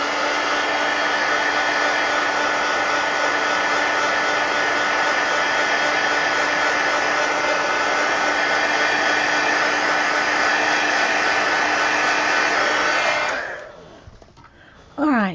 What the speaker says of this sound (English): let me hit this with the heat gun just to make sure